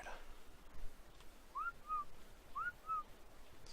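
Two short rising-then-falling whistled phrases in the video game Ark: Survival Evolved sound over a steady low ambient hum, fairly quiet and spaced about a second apart.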